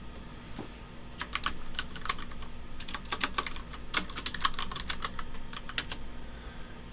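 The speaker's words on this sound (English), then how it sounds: "It's easier if I can see myself typing." Fingers typing on a computer keyboard, a run of quick, uneven key clicks close by, faint against a quiet room hum, with no voices over it.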